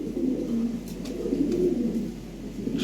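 European Lahori Shirazi pigeons in a cage coo in low, repeated warbling phrases, close by and moderately loud, over a faint background hum.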